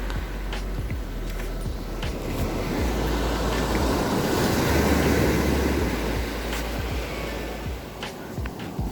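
Sea waves washing onto the shore, a continuous broad rushing roar that swells and eases over several seconds, fairly loud and close, with a few faint knocks and no talking.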